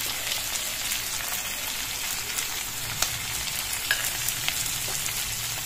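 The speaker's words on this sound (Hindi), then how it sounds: "प्याज को हम बिल्कुल अच्छे तरीके से भून देंगे और इसी में डालेंगे हम 2 हरी मिर्च कटी हुई" Onions and chopped green chillies fry in a pan with a constant close sizzle, like light rain, punctuated by a few faint clicks of stirring.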